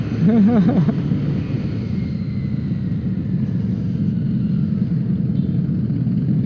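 An old Harley-Davidson Street Glide motorcycle rumbles loudly and steadily at a Bacolod Masskara unity ride, its deep engine drone continuous throughout, with a voice briefly audible at the start.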